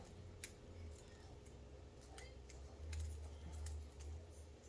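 Scissors snip while crafting a Valentine's Day wood round sign, giving faint, close, sharp clicking cuts scattered irregularly over a quiet room hum, with no talking.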